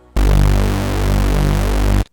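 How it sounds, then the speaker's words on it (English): Reese bass from a Serum synth made with a detuned saw wave, a thick buzzing bass note held for about two seconds with slow phasing and a gentle throbbing swell. "you do this when you just detune a saw wave"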